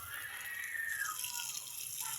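Tap water running steadily at a garden faucet, used to water vegetable plants; a continuous close hiss of flowing water with no speech.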